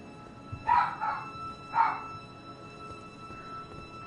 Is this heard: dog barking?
yes